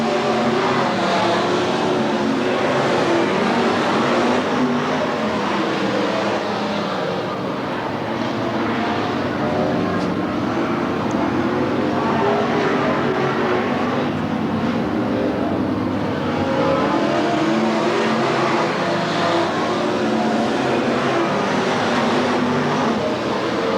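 Race cars lapping a short oval at Willamette Speedway during a 1991 heat race, engines roaring steadily and densely throughout, near and loud, with the pack's drone swelling and easing as cars pass.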